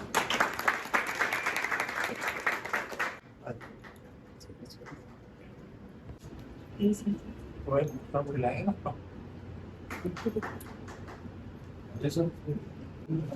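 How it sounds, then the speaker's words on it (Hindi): Audience applause at a celebratory event, dense broadband clapping for about three seconds near the start, then fading into scattered voices and talk. "तालियां"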